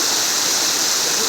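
A mountain stream, a clean drinkable water source, rushes steadily in a continuous close wash of flowing water with no pauses and no speech.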